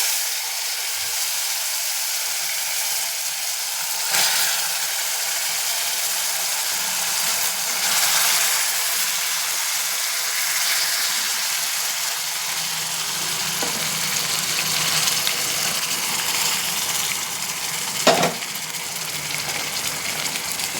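Half-cooked tamarind broth hits a sizzling pulihora tempering, producing a loud, steady hiss that holds throughout, with small surges and a sharp splash-like crackle near the end.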